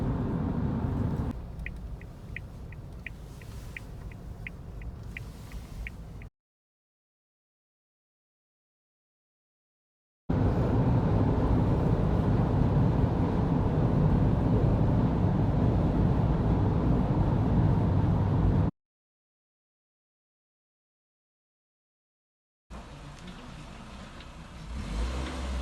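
A heavily loaded Suzuki Jimny cruising on a road to the Isle of Skye, with a steady in-cabin engine drone and road rumble heard in separate stretches broken by silent gaps, with no talking.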